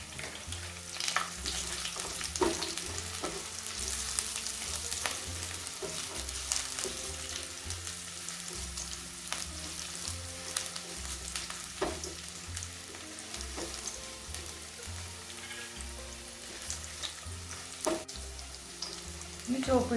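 Fenugreek and ginger sizzling in hot oil for a lamb curry, a continuous crackling fry close by with repeated clicks and scrapes of stirring and a few sharp ticks against the pan.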